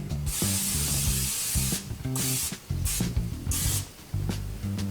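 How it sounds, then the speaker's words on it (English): Repeated short bursts of cooking oil spray hissing onto a pan over medium-high heat, four or five quick blasts in an uneven rhythm, close and fairly loud over a low hum. "we're gonna spray it just a little bit of oil"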